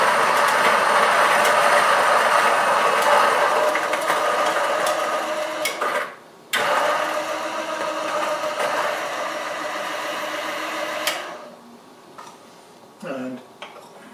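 A Niche Zero coffee grinder grinds a cup of beans to a French press setting, a steady loud mechanical whir that breaks off briefly, then carries on and winds down into a few faint clicks at the end.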